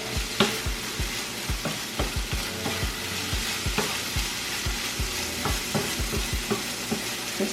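Grits being stirred in a pot on the heat, a spoon scraping and knocking in a quick, irregular rhythm over a soft bubbling sizzle, close and with no talking.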